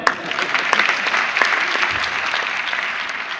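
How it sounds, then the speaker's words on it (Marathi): Steady applause from an audience at a felicitation ceremony for a woman, a dense continuous clapping that holds evenly for the full few seconds with no voices standing out. "तिच्याकरता टाळ्या वाजवा."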